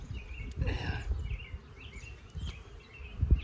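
Honey bees on a heavy hive frame packed with pollen, a soft steady insect buzz with individual bees droning past near the microphone, punctuated by low handling bumps.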